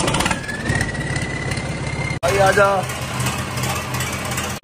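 A Swaraj tractor engine cranks and catches, then settles into a steady low diesel idle with a brief pause and restart, while someone speaks over it close by.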